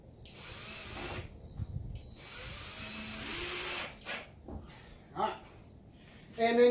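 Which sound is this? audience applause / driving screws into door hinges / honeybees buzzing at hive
driving screws into door hinges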